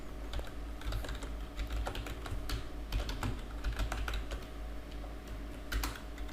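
Rapid, uneven clatter of computer keyboard typing runs throughout, close and moderately loud, with individual key strikes and occasional heavier presses over a low steady hum.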